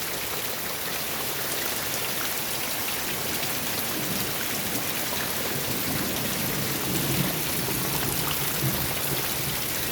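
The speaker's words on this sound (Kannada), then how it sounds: "ಸ್ಟಾರ್ಟ್ ಆಗಿ 1 ಗಂಟೆ ಆಯಿತು ಮಳೆ. ಇನ್ನೂ ನಿಂತಿಲ್ಲ, ಬರ್ತಾನೆ ಉಂಟು." Heavy rain pouring steadily at night, a dense, loud, unbroken hiss of drops on surfaces throughout.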